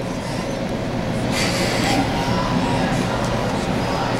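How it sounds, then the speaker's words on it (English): A long CSX coal train rolls past on the rails, a steady, loud, continuous rumble of rail cars with wheel noise and occasional squeal, close by and sustained throughout. "It's called the life of a coal train."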